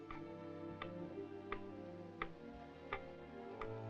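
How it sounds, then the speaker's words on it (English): An old clock in a 1930s Western ticks steadily and quietly, about one sharp tick every seventh of a second, over a low sustained musical drone. "The tick of that clock begins to sound like thunder."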